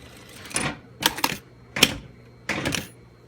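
Short bursts of a sewing machine stitching a buff-style fabric neck warmer, four quick mechanical runs separated by brief pauses, close and clear with no talk.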